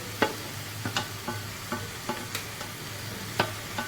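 Tomato, brinjal, green chillies and chopped spring onion fry softly in a pan, with a spatula stirring and tapping about a dozen times in an uneven rhythm over a low, steady sizzle.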